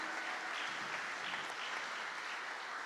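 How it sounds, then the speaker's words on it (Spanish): A congregation at a church service claps in a dense, even wash of applause that stays steady and moderately loud throughout, with no voices rising above it. "Demos un aplauso al Señor"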